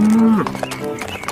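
A toy cow lets out a short, low, steady moo at the start, quickly followed by an excited voice talking.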